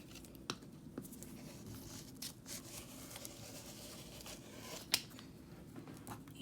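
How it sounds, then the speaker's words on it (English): Quiet, close cutting of fabric with a rotary cutter for a face mask, with soft crisp snips and scratchy slicing strokes scattered unevenly over the clip. "Just go ahead and go up with your rotary cutter."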